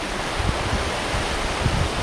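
Rough sea off Palawan churns around a small fishing boat, a dense, continuous roar of waves and spray that fills the whole stretch at close range, with no voices.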